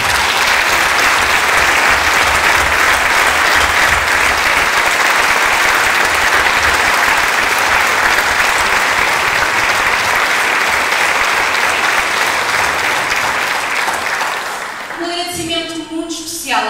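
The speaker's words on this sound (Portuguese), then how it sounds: "São os vossos aplausos que dão força a que grandes espetáculos aconteçam" An audience gives long, loud applause after a Sociedade Filarmónica Santo Estêvão band concert in Samora Correia, dense continuous clapping that fades near the end as a voice begins speaking.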